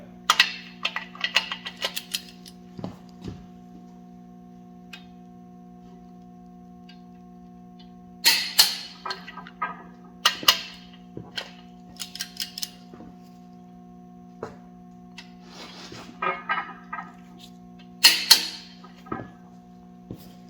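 A torque wrench clicks sharply several times as crankshaft bolts are tightened to a final 110 on a 496 stroker engine build, with isolated clicks spread through a quiet shop and no talking.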